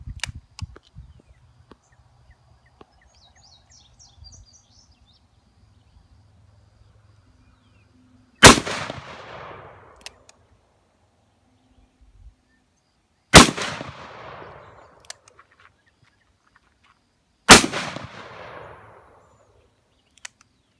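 Three loud, sharp gunshots from a .500 Smith & Wesson double-action revolver, spaced several seconds apart outdoors, each with a long ringing decay; quiet handling noises in between.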